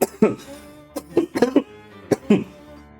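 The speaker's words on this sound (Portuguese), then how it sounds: "Essa tosse tá chata, hein?" A string of close, raspy coughs in irregular bursts, some clustered tightly together, with brief pauses and throat noise between them.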